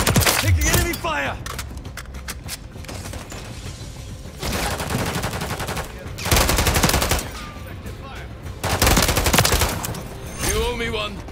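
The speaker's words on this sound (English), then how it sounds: "Taking enemy fire!" Enemy gunfire in the video game Call of Duty: Modern Warfare III, with loud repeated automatic bursts in several long volleys, close and dense, interrupted by shouted in-game voice callouts.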